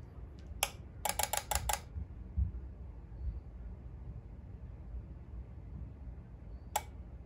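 A relay in a custom jack-in-the-box animatronic clicks on and off, a quick burst of sharp ticks early on, then a single click near the end over a faint low hum.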